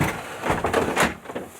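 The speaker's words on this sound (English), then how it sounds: "I'm literally gonna answer the door like this." A house door is opened to answer a caller, with several short knocking-like thumps and rattles close by at moderate loudness, no talking.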